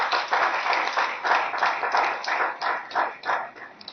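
Audience at a Paris gathering applauding for a speaker, a steady, fairly close patter of many hands clapping with a slightly pulsing rhythm and no voices.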